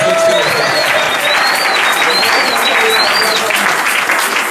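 Steady applause and acclaim from a worship congregation in Seneffe, Belgium, a dense unbroken wash of clapping with a whistle or cry sliding over it throughout.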